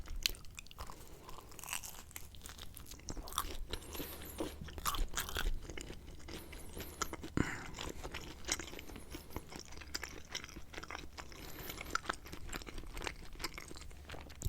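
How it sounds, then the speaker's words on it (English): Close-up crunchy bites and chewing of Papa Murphy's pepperoni pizza with a crisp baked cheese crust, in soft repeated crunches throughout with no talking. "the cheese has a nice crust to it, so when you bite into it, you're almost getting like a crunchy"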